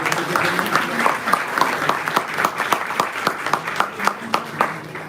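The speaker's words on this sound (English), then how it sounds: "Let's give a round of applause." An audience claps after an interactive session at a Mumbai event on the Right to Services Act. The applause is moderately loud and steady, with distinct individual claps throughout and a faint voice underneath.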